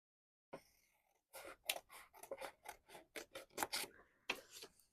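Scissors cut paper for a journal page in a quick run of crisp, rasping snips, about a dozen close together after a brief first cut, close but quiet with no talking.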